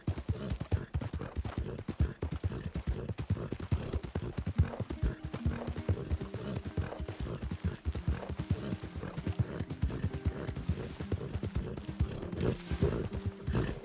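A big horse in Red Dead Redemption 2 clip-clops along at a steady rhythmic gait, hooves close and clear, with an occasional whinny and faint background music.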